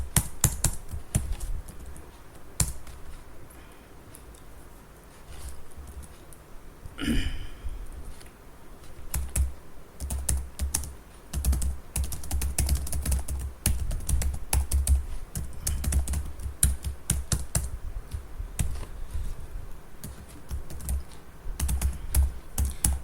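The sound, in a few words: typing Java code on a computer keyboard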